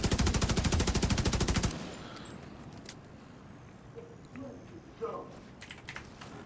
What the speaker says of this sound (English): Gotta love some burst fire.